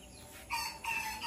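A rooster crows faintly among chickens, a brief distant call that rises in two quick bursts over quiet background.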